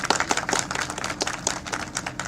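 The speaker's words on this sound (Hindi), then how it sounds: "आप सबकी तालियां एक बार जोरदार बजनी चाहिए।" An audience at an NDTV election event claps in a brisk, irregular patter of individual hand claps, close and moderately loud, with no talk over it.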